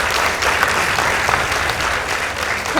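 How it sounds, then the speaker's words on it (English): A school debate crowd gives Mang'u High School sustained applause, many hands clapping together in a dense, even roar that carries on throughout. "Let's appreciate them with a round of"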